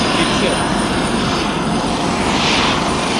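Loud, steady roar of an airplane engine at Agatti Island, Lakshadweep, filling the whole clip, constant and close, with no pauses.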